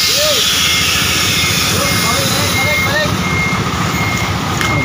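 A large truck reverses with a loud, steady engine rumble and repeated reversing beeps sounding through the noise, with voices faintly present in the background.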